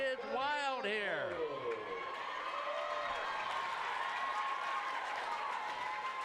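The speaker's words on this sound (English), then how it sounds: "Wow, the crowd is wild here." Dense softball crowd noise of cheering and applause at a high school Division V game after a game-tying three-run homer, loud and sustained, with voices shouting over it and harmonic whoops at the start.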